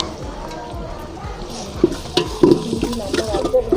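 Garlic and ginger fry for a Kerala fish curry over a wood fire, a close crackling sizzle with scraping stirs and light clinks of utensils against the pan that grow busier toward the end.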